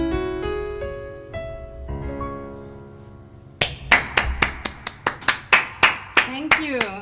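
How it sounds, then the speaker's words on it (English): Audience applause following a song, beginning partway through as a lively burst of close, sharp hand claps that stay loud to the end. A sustained sung or played tone comes before it. "Try not to clap close to the microphone here."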